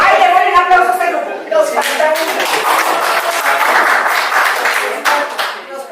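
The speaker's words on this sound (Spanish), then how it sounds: "démosle un aplauso a este grupo" A group in a family constellations workshop claps together, a dense burst of hand claps blending with excited voices and chatter throughout.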